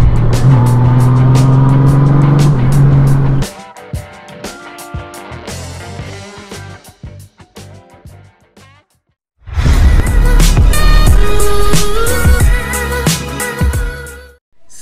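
A Honda Goldwing 1833cc motorcycle engine roars loudly up close, revs dropping to a lower rumble with sharp bursts, going quiet, then surging back to a full roar.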